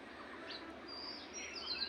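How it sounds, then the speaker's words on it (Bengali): Small birds chirp in a rooftop garden with a mango tree, a few thin high tweets rising faintly over quiet background hiss in a brief outdoor moment. "আর এই যে পাখির কিচিরমিচির ডাক"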